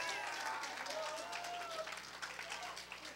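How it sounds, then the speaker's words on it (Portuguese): An audience claps for a woman after her performance, a steady, dense wash of applause from a crowd, fairly quiet and even throughout with no voices on top. "Dá palmas para ela que ela merece."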